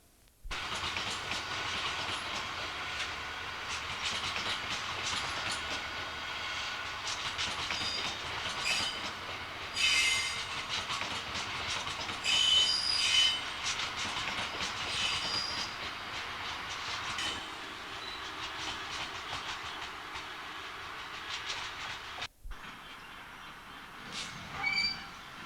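Freightliner freight train hauled by two locomotives, one at each end, passing on a main line: a steady rumble and clickety-clack of wagons for over twenty seconds, with occasional squealing wheels and a faint bird.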